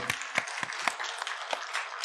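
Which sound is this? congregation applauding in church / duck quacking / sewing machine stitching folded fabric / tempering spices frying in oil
congregation applauding in church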